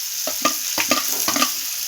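Fried ridge gourd goes into a sizzling pan for a Bengali red spinach chachchari, with a steady bright hiss and a run of sharp spatula scrapes and taps, close by and without speech.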